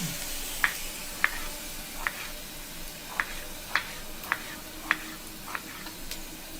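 Onions sautéing in a pan in a South Indian home kitchen, a soft sizzle beneath a series of crisp, evenly spaced scrapes and taps as a spoon stirs them, close and fairly quiet.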